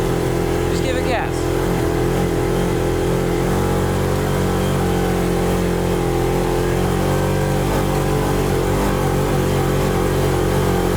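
A Hellwig F-350 pickup truck's engine drones loud and steady as it is driven off-road on a black diamond trail, with a brief voice near the start.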